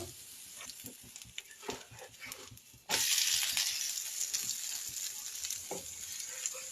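Dosa on a hot griddle bursts into a loud, steady sizzle the moment coconut oil is poured on, after a quieter stretch of faint crackling and clinks; nearby and without talk.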